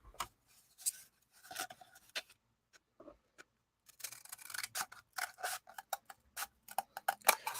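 Scissors snip repeatedly up close along drawn lines on a toilet paper roll, sparse and hesitant at first, then a quicker run of sharp cuts with short pauses between.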